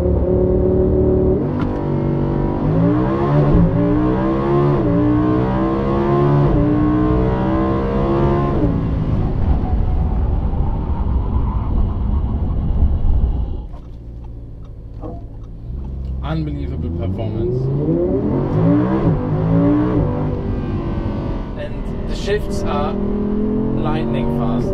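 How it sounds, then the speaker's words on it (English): A 2016 Audi R8 V10 Plus accelerating hard on the road, its engine note climbing in loud rising sweeps through several gears before easing off, then building again, with someone speaking over it inside the cabin. "this car accelerates really fast."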